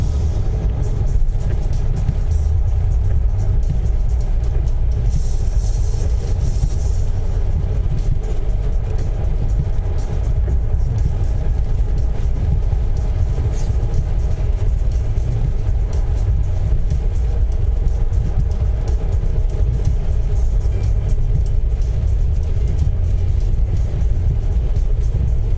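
Loud, continuous low rumble of heavy motorway traffic on the M9 near Edinburgh, a dense steady roar heard from inside a moving car with no talking.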